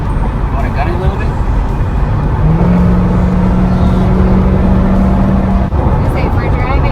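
A 2018 Mazda CX-5 Touring AWD accelerates hard, its engine note rising steadily beneath continuous road and wind noise heard from inside the cabin.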